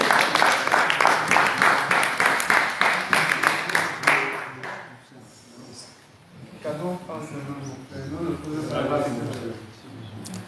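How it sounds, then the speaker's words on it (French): Church congregation applauding for the Lord, steady rhythmic clapping for about four seconds before fading, followed by a voice speaking. "Applaudissons pour le Seigneur."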